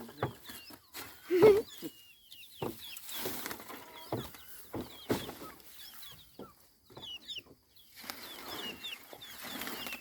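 Chickens cluck and chirp in bursts around a farmyard, with scattered short calls and a few louder squawks close by, no talking.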